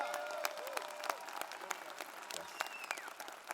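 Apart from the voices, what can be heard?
applause from convention crowd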